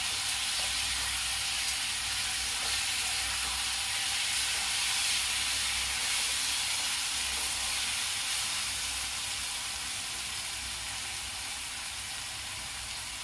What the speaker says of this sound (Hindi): जो मसाला का पेस्ट बनाई हूँ उसे डाल दूंगी और गैस को स्लो कर दूंगी। इसे मैं अच्छी तरह धीरे धीरे चला दूंगी।